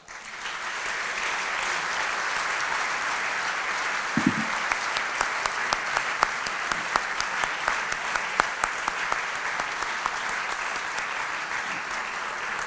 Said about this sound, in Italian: Questo applauso è per il dottor Golinelli.